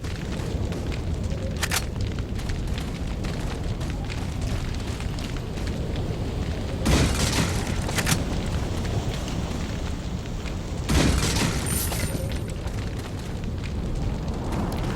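Rumbling blasts from a rocket launcher fired at Krauser in Resident Evil 4 on Professional mode, with a constant heavy roar and a few loud bursts near the start, middle and end.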